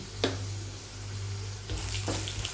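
Curry leaves and garlic fry in oil with a low, steady sizzle, broken by a couple of sharp clicks or knocks and a brighter burst of crackling near the end, close and without speech.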